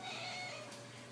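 A house cat gives a short, faint meow in a kitchen while a chicken is being cooked, brief and somewhat distant.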